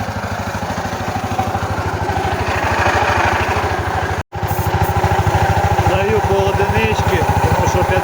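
A Yamaha Grizzly ATV in for repair runs at a steady idle, its engine chugging loud and close with an even, rapid pulse that continues unbroken apart from one brief dropout midway.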